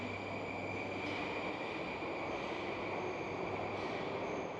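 Moscow metro train arriving at a station, a steady loud rumble and rolling roar of wheels with a faint high squeal running through it.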